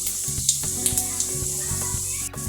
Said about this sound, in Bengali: পাঁচফোড়নটা দিয়ে দিলাম, একটু ভাজা হলে ওটা দিয়ে দেবো